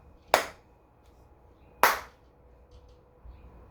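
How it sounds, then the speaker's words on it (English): Two sharp, isolated hand claps spaced about a second and a half apart, close and crisp in an otherwise quiet room, from a rhythm clapping exercise. "I want you to hear my claps and not all the counting as well."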